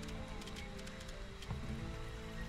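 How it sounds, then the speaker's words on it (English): Soft, steady patter of video game rain with faint scattered drops over a low background hum, quiet and continuous. "Oh, it's raining already."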